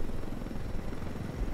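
A helicopter in the video game Ghost Recon Wildlands produces a low, steady rotor drone, moderately loud and continuous throughout.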